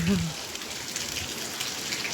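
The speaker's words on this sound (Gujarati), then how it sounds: "જુઓ હજી વરસાદ ચાલુ છે" Steady rain falling in an even, continuous hiss throughout, moderately loud and close, with no pauses or distinct drops standing out.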